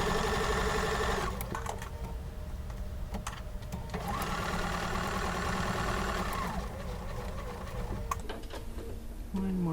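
A sewing machine stitches quilt fabric with a quarter-inch seam, running in steady whirring bursts with short pauses and clicks between them, and a voice speaks briefly in between.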